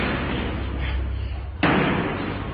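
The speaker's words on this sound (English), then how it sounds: "basically you can hear just a door constantly slamming downstairs" A door slams once, sharp and loud, downstairs at a football stadium, cutting through a steady low rumble of background noise.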